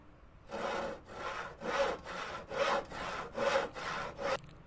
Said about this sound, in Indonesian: dia sedang menggergaji papan kayu tersebut